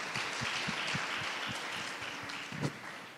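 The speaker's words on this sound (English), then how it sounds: "So please give a round of applause of our protagonist." Applause from a conference audience on a summit stage, fairly faint and diffuse, with scattered distinct claps over a steady wash of clapping.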